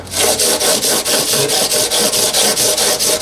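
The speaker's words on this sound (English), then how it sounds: "I'm just using a stick with some sandpaper stapled to it." Sandpaper stapled to a stick rubbed back and forth along the fretboard of a 1980s Aria 12-string acoustic guitar, a loud, close, rhythmic rasp of about a dozen even strokes with nothing else heard.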